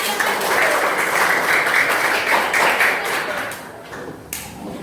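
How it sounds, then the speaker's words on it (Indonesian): A room of participants at a school counselling training session claps together, a dense, even burst of applause that holds for about four seconds, then breaks into a few scattered final claps. "Ya, tepuk tangan untuk kita semua."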